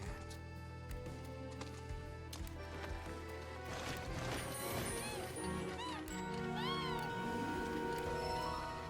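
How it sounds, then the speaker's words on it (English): A cat meows repeatedly near a computer keyboard, several drawn-out wavering calls growing louder toward the end, over a steady background of game music and faint noise. "Cat, please stop cuddling specifically my keyboard."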